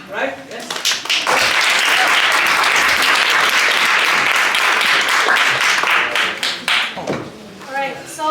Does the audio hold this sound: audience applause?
yes